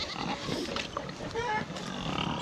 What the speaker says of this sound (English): The last 3 of the feeder pigs